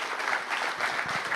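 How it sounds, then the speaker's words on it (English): Brief audience applause after a talk at a real estate business event, a dense burst of clapping from a room of people with a faint voice underneath. "round of applause for Shelly"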